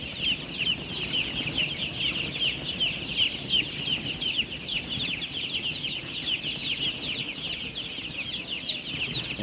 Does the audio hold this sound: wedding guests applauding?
no